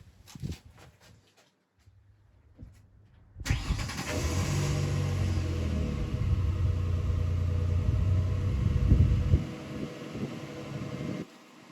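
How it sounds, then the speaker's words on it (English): A car engine cranks and fires after a few faint clicks, then settles into a steady, close idle rumble that holds for several seconds before easing slightly at the end. "Start the vehicle so my voltage is all the way up."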